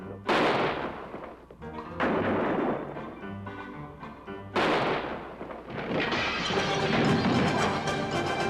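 Shotgun blasts in an Old West television western, several loud booming reports with sharp onsets spaced across the scene, the last followed by a sustained crashing rumble.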